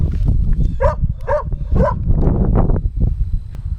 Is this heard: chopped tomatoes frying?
no